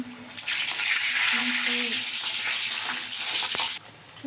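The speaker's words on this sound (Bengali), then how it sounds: "লাল লাল করে ভেজে নেব ভেজে দেখো প্রত্যেকটা এভাবে ফুলে উঠবে" Snacks deep-frying in hot oil for a quick breakfast or evening bite, a loud, steady broadband sizzle that runs unbroken for several seconds and then cuts off abruptly, with a faint voice underneath.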